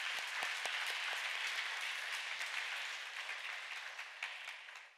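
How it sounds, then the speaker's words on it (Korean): Church congregation at a Sunday worship service applauding together, steady dense clapping that holds and then fades out at the end. "우리 박수로 하나님께 영광 돌리겠습니다."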